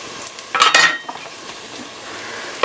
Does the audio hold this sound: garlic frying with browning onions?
yes